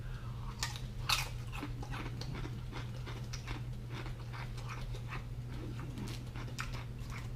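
Repeated close crunching of crisp, lime-flavored Takis Fuego rolled tortilla chips being chewed, irregular bites over a low steady hum, no talking.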